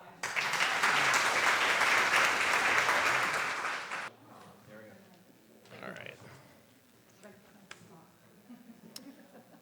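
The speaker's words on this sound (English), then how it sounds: "Let's give them a big round of applause." Audience applause at a Vermont farm-to-school institute, a dense burst of clapping lasting about four seconds that then stops abruptly, followed by quiet room noise and brief voices.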